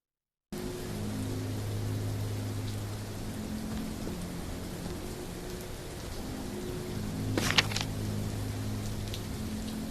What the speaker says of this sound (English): Ah, shit, it's raining.